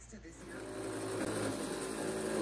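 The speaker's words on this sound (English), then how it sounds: "so I'll cut a relief inside the plywood" A power tool cuts a wire relief channel into plywood for a cedar ceiling in a Ram ProMaster van build, a steady high whine that climbs in loudness, with a voice partly mixed in.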